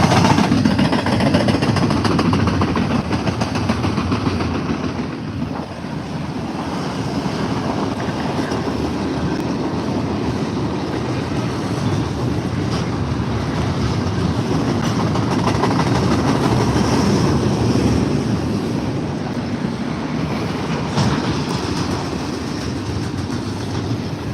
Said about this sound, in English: Now let's see if we can capture the train.